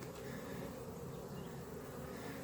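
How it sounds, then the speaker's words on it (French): A steady, dense buzz of honey bees at a hive entrance, heard close and continuous without pause, with no voices over it. "je vois une abeille sur la planche d'envol"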